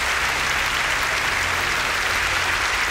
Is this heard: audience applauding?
yes